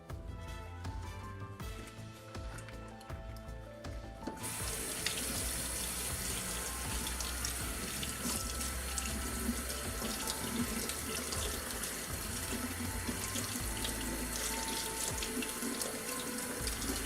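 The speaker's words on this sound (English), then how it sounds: "Then I'm going to give it a good clean rinse and let it dry" A tap runs steadily into a sink as a sweatshirt is rinsed clean, a constant loud gush of water that swells after a few seconds and continues without break.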